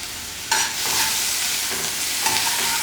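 Butter hits a pan of cooking onion for a mushroom omelette, bursting into a sudden loud, hissing sizzle that holds steady with faint crackles, close and without talk.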